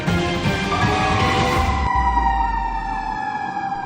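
Fire truck siren wailing as firefighters respond to an ammonia leak at an ice plant, a steady loud rising and falling tone with a deep engine rumble beneath, nearby and passing.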